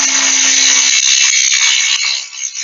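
A wood lathe turns a spindle with a steady, loud high-pitched whine and hiss of the cutting tool on wood, continuous and close, easing slightly toward the end.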